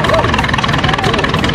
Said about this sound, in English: John Deere tractor.